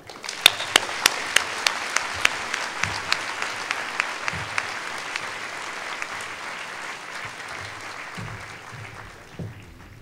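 A crowd at a children's network conference keynote applauds to welcome Father Gregory Boyle, steady clapping lasting about ten seconds that gradually thins out, with a few louder individual claps near the start.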